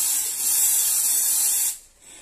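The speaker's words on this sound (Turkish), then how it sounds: "güç kaynağını şimdi soğutuyorum arkadaşlar bu soğutucu spreyimle" Cooling spray blasts onto a power supply circuit board in a loud, continuous close-up hiss lasting under two seconds, then cuts off, leaving a faint quiet tail.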